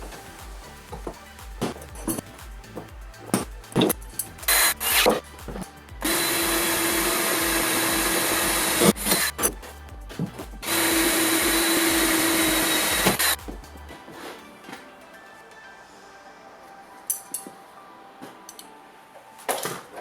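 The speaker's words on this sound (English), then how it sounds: "I want to drill those 2 holes" A power drill whirs in two sustained bursts of several seconds each, drilling holes for an off-road bumper on a second-generation Toyota Tacoma, surrounded by clicks, clatter and handling noises of tools.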